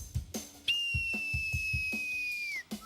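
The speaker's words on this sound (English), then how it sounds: "You can teeth whistle" A person whistles through their teeth, producing one long, clear, high steady tone that holds for about two seconds and then slides slightly down before stopping, with soft rhythmic tapping or thumps underneath.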